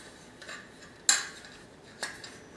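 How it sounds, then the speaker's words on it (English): Metal muffin pans being handled in a home kitchen, giving two distinct clanks about a second apart, the first sharper and louder, over a quiet background. "These are muffin pans or cupcake pans"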